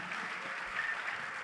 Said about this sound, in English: round of applause for Joe